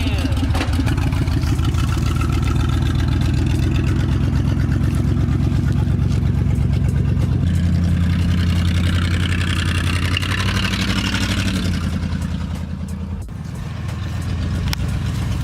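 An OBS Chevy Suburban engine runs steadily through its exhaust, a loud, close, continuous rumble that shifts pitch slightly partway through as the revs change.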